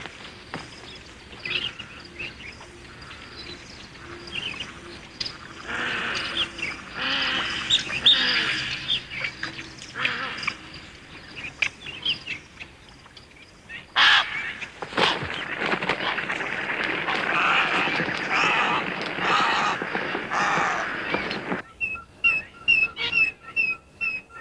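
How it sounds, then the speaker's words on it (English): Thousands of migratory birds rest at lakes across Arabia, with scattered chirps and tweets, squawks and whistled calls rising over a busy, steady wash of ambience that swells in the middle and end. "The lakes attract thousands of birds, which use them as rest stations on their migratory paths across Arabia."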